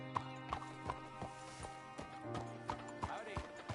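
Rhythmic horse hoofbeats in Red Dead Redemption 2 clip-clop at a steady pace under a low hum, with a faint whinny and some murmured talk in the background.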